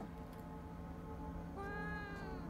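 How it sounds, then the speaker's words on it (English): In the horror game Fears To Fathom, a small cat gives one faint, drawn-out meow near the end, over a quiet, low background hum. "That's a cat!"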